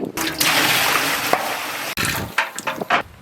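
Water pours steadily into a large cooking pot over an outdoor village fire while preparing fish biryani, a continuous close rushing splash that sputters and breaks into uneven gushes near the end.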